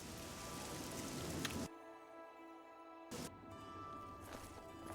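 Rain falls in The Elder Scrolls IV: Oblivion as a dense, even hiss that cuts out abruptly for about a second and a half, returns briefly, then continues to the end.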